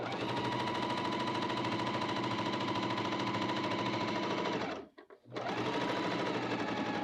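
A Janome CoverPro 3000 cover stitch machine sewing at speed, a loud, close, steady rattling whir that runs continuously, stops briefly for about half a second, then resumes, with no talking.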